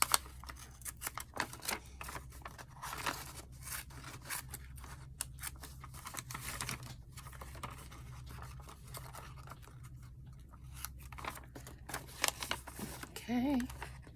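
Scissors snip into a paper envelope in a run of short, crisp cuts close up, quiet and irregular, with someone speaking at moments in between.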